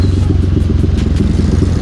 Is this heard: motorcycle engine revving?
yes